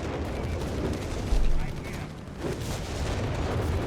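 Heavy high-explosive blasts from a Stuka dive-bomber strike in Company of Heroes 3 rumble among scattered gunfire, with one deep boom standing out midway and a voice talking over the battle.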